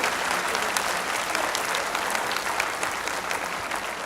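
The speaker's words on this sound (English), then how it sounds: "A great round of applause for your family, your success and great struggle you have done to be here." A large crowd at a university induction program claps steadily and continuously, dense and loud throughout with no pauses.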